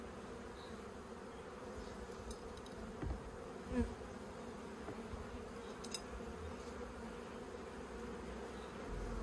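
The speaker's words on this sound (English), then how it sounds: "the bees are just festooning and not really doing much" Honey bees buzz around an open hive in a backyard apiary, a quiet, steady drone of many wings with a few louder passes near the microphone.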